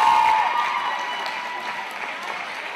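A crowd at a college men's volleyball match claps for the Southern Virginia University Knights and their three seniors, a sustained round of applause that slowly tapers.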